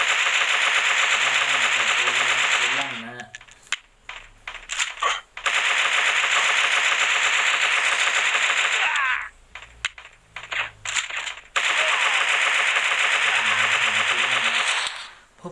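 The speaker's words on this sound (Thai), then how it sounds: "ปืนมันลั่นไปเอง" A gun in a video game fires on its own in long, rapid automatic bursts, loud and near, broken by short gaps with clicks and clatter between volleys.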